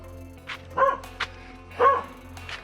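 Dogs at a chicken farm in the Philippines barking, two short bursts of close barks with a few sharper yips in between, against a quiet background.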